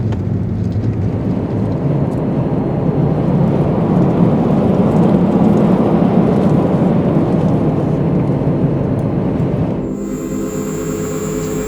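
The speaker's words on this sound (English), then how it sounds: "you can hear that kind of characteristic whining of an electric vehicle's battery" A dense, rumbling wash of noise fills most of the clip, then gives way to a thin, high electric whine of an electric vehicle's battery with steady tonal hum at the end.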